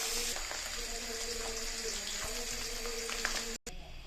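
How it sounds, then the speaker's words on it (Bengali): Fish fry in hot oil in a pan, four pieces at a time, with a steady close sizzle and crackle over a low hum, ending in a brief cut. "চারটা করে ভেজে নেব, কারণ মাছগুলো সবগুলো একসাথে দিলে লেগে যাবে।"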